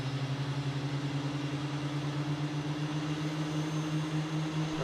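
Twin turbine engines of an AH-64D Apache helicopter running in a flight simulator, a steady droning hum with strong low tones holding evenly and continuously throughout, close and fairly loud, with no talking.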